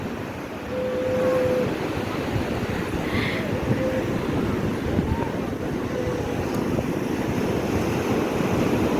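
Rough ocean surf at Puri beach after a night of rain, a continuous loud roar of breaking waves mixed with gusty wind buffeting the microphone, with no clear break between waves.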